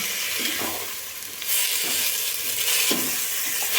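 A spoon stirring prawn pulao in a hot pan, steady sizzling and frying hiss broken by scraping strokes roughly every one to one and a half seconds, close and fairly loud.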